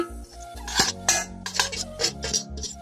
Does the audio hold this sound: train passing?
no